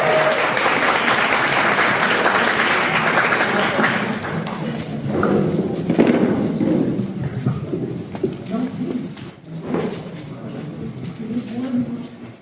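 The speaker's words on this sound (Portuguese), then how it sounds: "Palmas para o camarada, por favor." Audience applause for a speaker at an international communist camp gathering, a dense, loud clapping crowd that gradually thins out while voices and scattered claps continue underneath.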